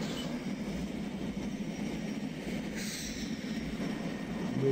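A heavy diesel freight train in a train simulator game pulls away from a stop in notch 2, a steady low rumble and rolling mechanical drone that swells slightly toward the end.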